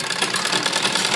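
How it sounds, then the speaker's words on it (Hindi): An electric sewing machine runs close and loud in a short unbroken burst while stitching a half-inch shoulder seam on a child's umbrella frock. "यहाँ हम आधा इंच की सिलाई अपने कंधों को जोड़ते हुए लगाएंगे"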